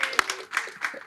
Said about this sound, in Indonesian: Tepuk tangan buat Bung Ferry.